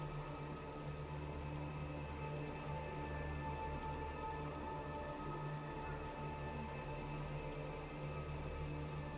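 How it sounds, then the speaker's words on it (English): Steady rain falls on the streets of Paris in Assassin's Creed Unity, a constant even hiss with low tonal game ambience beneath, no voices. "Rain's picking up."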